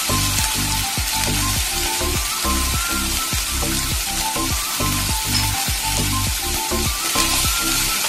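Capsicum and other vegetables for poha fry in a pan with salt, giving a loud steady sizzle with rhythmic scraping stir strokes throughout.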